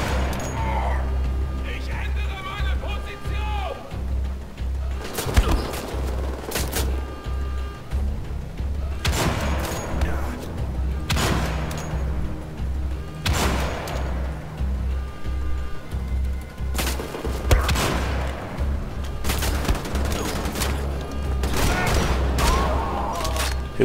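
Bursts of machine-gun fire from a gunner perched above in Wolfenstein: The Old Blood, repeated volleys crackling loudly every few seconds over a low rumble, with a voice talking between them.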